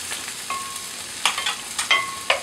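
Food frying in a pan for kare-kare while pepper is added, with a steady sizzle and several sharp metal scrapes and clinks of stirring, close by.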